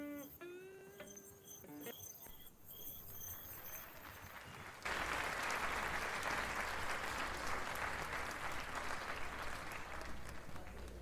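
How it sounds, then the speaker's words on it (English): An applause sound effect plays from a laptop, a sudden loud burst of crowd clapping that follows a few electronic chime tones and carries on steadily to the end. "I can't get the claps to match up with the confetti."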